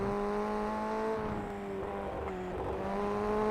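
A race car engine in a racing game at Okayama drones steadily at a constant, fairly low rev level, with a strong tonal whine, brief dips and small wobbles as the car works through a corner.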